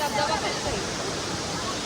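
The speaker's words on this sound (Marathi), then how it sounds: "धबधब्याचा आवाज आहे का" Steady rushing water roar from a waterfall at Dare Ghat, Malshej, filling the background, broad and constant, with faint voices mixed in.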